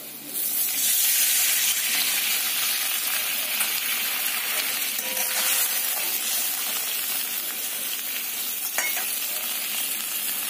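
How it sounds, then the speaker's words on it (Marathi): Water is poured into hot oil in a pan, where a tempering for vadi has been fried, and sets off a loud, continuous hiss and sizzle that holds steady for the whole stretch with a brief clink. "तर आपण याच्यामध्ये आता पाणी घालून घेणार आहोत"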